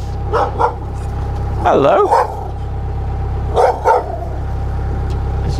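Dogs bark in two short pairs of yaps over a steady low engine hum, likely aboard a narrowboat, with one voice briefly speaking between them.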